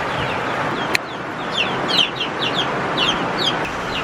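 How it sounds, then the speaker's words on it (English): Chickens cluck and chatter in a busy, overlapping flurry of short calls from a flock that includes roosters, close by and fairly loud, with a couple of sharp knocks and no talk. "Those are definitely roosters."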